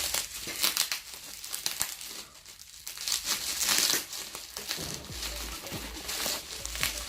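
Taped product packaging for a foundation is handled and turned over while someone searches for the tape edge, giving close, fairly quiet crinkling and rustling in uneven bursts.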